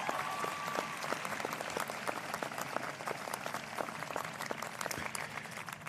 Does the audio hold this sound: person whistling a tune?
no